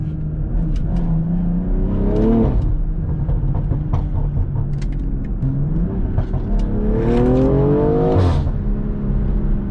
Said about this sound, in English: It's like every time you shift, you hear that crack.